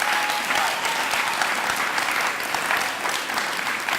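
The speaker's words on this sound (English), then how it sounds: "So please give him a round of applause." An audience gives a steady, dense round of applause for an honored supporter, sustained and evenly loud throughout with no voices over it.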